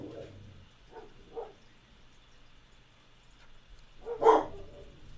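A dog gives a couple of faint yips early on, then one louder, sharper bark near the end, with quiet gaps in between.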